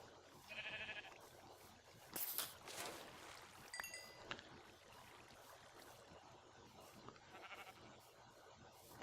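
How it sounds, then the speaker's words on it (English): Escaped sheep in the Minecraft video game give two quiet bleats, one near the start and one near the end, over faint game ambience with a few clicks between. "Oh look, there's some escaped sheep."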